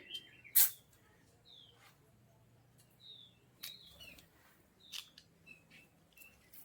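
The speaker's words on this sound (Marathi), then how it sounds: "आणखी एक वेगळ्या प्रकारच्या चिमण्या या ठिकाणी आहेत समोरच्या बाजूला एक बुलबुल आहे" Small birds chirp and whistle in short, scattered calls around Mahabaleshwar, mixing sparrow-like tweets with brighter bulbul notes, fairly quiet, with a sharp click near the start.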